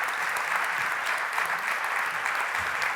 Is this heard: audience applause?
yes